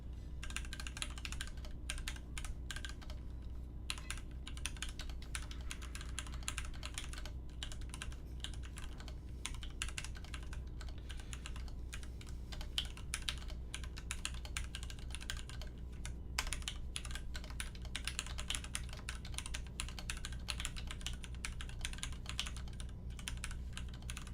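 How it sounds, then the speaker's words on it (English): Typing on a TGR Alice mechanical keyboard with pink and white keycaps, a steady, dense stream of close keystroke clacks continuing throughout with no talking. "All built up, looking great with the pink and the white keycaps. We'll do a little bit of a sound test for you."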